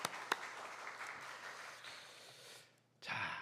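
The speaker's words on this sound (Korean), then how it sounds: "박수로 환영합니다." A church congregation at Osong Bongsan Church claps in welcome, a soft, distant patter of applause that dips nearly quiet before a brief louder burst at the end.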